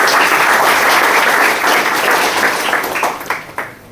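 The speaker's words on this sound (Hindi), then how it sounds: "एक जोरदार ताली होनी चाहिए इसके लिए।" Loud audience applause at a network marketing seminar, a dense burst of clapping from a crowd that holds steady and then tapers off in scattered claps.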